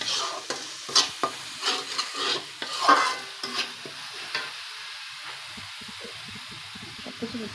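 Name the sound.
stirring and mixing spice ingredients in a frying pan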